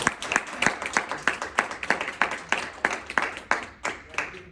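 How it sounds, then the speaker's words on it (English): A small group at a chemistry club forensics meeting gives a short round of applause, with distinct, fairly close individual claps in an uneven rhythm that thin out toward the end. "Round of applause for these guys."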